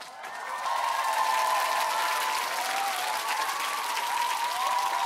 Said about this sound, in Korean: 나오시면 박수 많이 쳐주세요